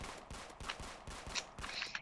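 Rapid gunfire in a Roblox game, fired at police while driving a tractor: a steady run of sharp, evenly spaced shots over about two seconds, moderately loud, with no talking.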